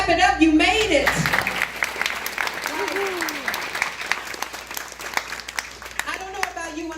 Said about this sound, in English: Clap it up, you made it.